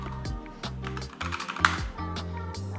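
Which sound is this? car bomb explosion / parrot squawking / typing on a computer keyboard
typing on a computer keyboard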